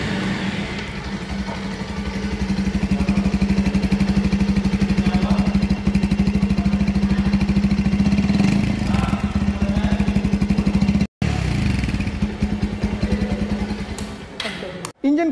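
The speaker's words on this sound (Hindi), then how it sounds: "चलिए आप बाइक को स्टार्ट करके इसका इंजन साउंड सुना देते हैं।" A 2023 Bajaj Pulsar 150 motorcycle engine runs steadily at idle with a low, even throb, close by, briefly cutting out and catching again near the end.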